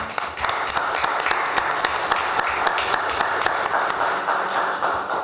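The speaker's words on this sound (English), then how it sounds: "If we give him a round of applause" Steady applause from attendees at a Board of Works meeting in a council chamber, many hands clapping together in a dense, even wash that holds for the whole stretch, fairly close and loud, with no voices standing out.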